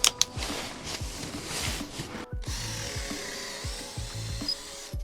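A budget cordless drill from Temu whirs into wood in short bursts, its motor winding up and down several times at close range.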